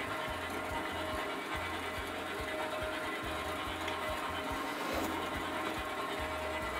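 A drill with a 5 mm bit whirs in short repeated bursts, starting and stopping several times over a steady background hum, fairly close.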